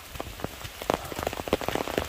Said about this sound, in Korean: 비 오는 거 좀 보세요.